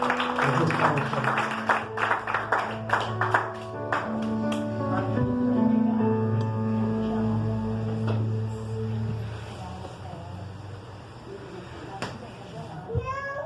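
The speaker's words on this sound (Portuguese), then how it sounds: "Pode aplaudir ao Senhor bem forte" A church congregation claps for the Lord during a Portuguese-language worship service, a burst of scattered, sustained applause up front mixed with voices and a tonal backdrop that carries on after the clapping thins.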